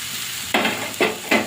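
A soybean and egg curry is stirred and fried in a pan. Three short, loud bursts of scraping sizzle arrive roughly half a second apart over quiet background hiss.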